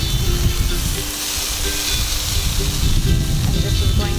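Crumbled tofu fries in a lightly oiled pan on an EcoZoom stove, with a steady close sizzle and hiss running the whole time and a faint background hum.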